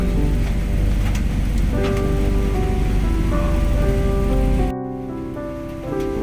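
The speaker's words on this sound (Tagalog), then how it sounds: "Bugso-bugsong ulan pero malalakas eh" Heavy rain roars steadily and loudly, a dense continuous downpour that briefly dips quieter near the end before resuming.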